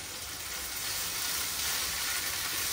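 Soy sauce and chili sauce hit hot, cooked vegetables in a pan for egg noodles, setting off a loud, steady, close sizzle and hiss that lasts throughout with no talking.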